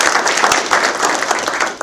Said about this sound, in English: We can give her a little round of applause real quick.